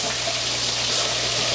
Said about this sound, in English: We're going to pour in our apple cider